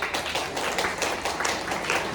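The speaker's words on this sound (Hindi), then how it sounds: "हमारे Ketan sir, mister Mehul Viresh sir और नेहाली पटेल मैडम के लिए जोरदार ताली होनी चाहिए" A crowd at a company marketing event gives dense, continuous applause for the management. It is loud, steady, many-handed clapping that fills the whole stretch.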